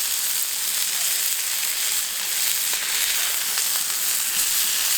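Lamb shawarma kebab burgers sizzle steadily on a hot BBQ plancha, a continuous bright hiss of fat and juices, close and even throughout, with no voices.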